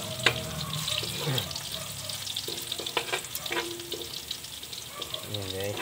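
Pork steak frying in a pan sizzles with a soft crackle while it is stirred, with scrapes and clinks of the utensil against the pan at irregular moments, and a few brief vocal sounds are mixed in.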